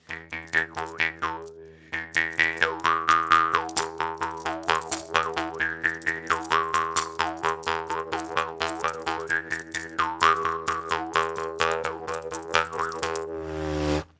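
A jaw harp twangs in a fast, steady rhythm, its buzzy drone shifting in pitch as the melody bounces along, loud and close with no talking.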